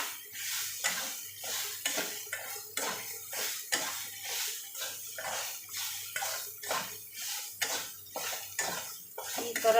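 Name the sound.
roasting coriander and spices in a pan, stirring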